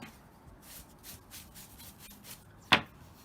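Hand sanding smooths the chipped finish on a dresser top, soft rhythmic rubbing strokes close by, faint and even, ending with a sharp brief knock.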